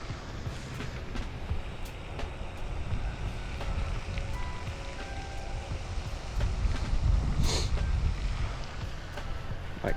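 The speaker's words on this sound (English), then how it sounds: "My gosh, this wind sucks" Gusty wind buffets the microphone outdoors on a winter fishing trip, a steady low roar that swells louder near the end, with no one talking.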